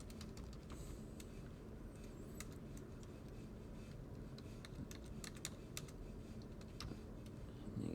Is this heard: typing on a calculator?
yes